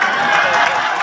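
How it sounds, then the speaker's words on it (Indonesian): An audience at a humorous Islamic sermon by Kiyai Asep Mubarok claps in a dense, steady patter that fills the whole moment, with crowd murmur and a voice mixed in underneath. "Jangan dulu tepuk tangan."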